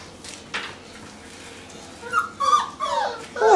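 Doberman puppies whimper and yip in a few short, high squeals, rising toward the end, over a quiet room with soft background noise.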